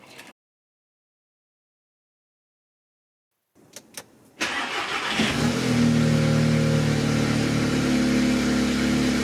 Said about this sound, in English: I went ahead and fired up my car